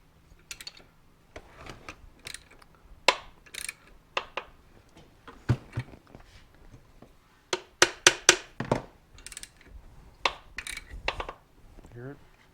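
A puller works on the engine parts of a 1975 Suzuki TS250 during disassembly, giving irregular close metallic clicks, ticks and ratcheting snaps with quiet pauses between, while someone speaks briefly.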